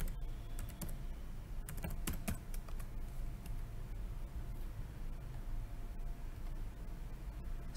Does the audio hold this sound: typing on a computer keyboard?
yes